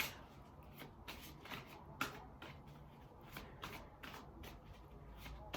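A deck of cards shuffled repeatedly in a quiet room, a run of crisp riffling bursts and soft slaps at a steady pace, close and moderately loud, with no talking.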